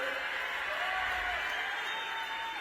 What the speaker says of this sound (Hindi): जोर से ताली बजाइए जरा।